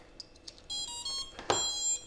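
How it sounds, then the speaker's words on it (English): A short series of electronic tones from a brushless motor's ESC at startup, rising stepped beeps close by, with faint clicks before them. "at least the ESC booted and the motor started beeping"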